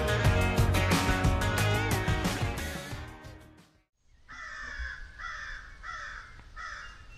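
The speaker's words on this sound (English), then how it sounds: "The crows are going nuts." A dense, harmonic blare of sound gives way after a brief silence to four loud, evenly spaced crow caws close by.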